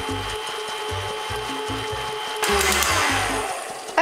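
An electric mixer beating cookie dough in a bowl, a loud close mechanical whir with a rapid repeating rattling rhythm that grows brighter and harsher partway through.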